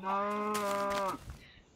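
A cow mooing in the Minecraft video game, one drawn-out harmonic low call lasting about a second, followed by quiet.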